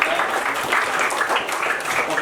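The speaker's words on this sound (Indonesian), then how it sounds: "tepuk tangan buat Raja" Applause from a classroom audience for a student named Raja, a steady wash of many hands clapping, moderately loud and sustained with no talk over it.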